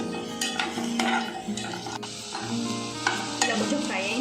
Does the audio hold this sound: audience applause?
no